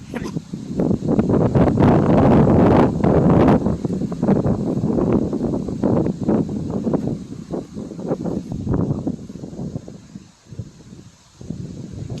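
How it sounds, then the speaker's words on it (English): Strong wind gusts buffet a tent at a lake campsite, a loud, rushing roar that swells and fades in waves, heaviest early and easing toward the end. "I was hoping the wind would die down this afternoon, but not really."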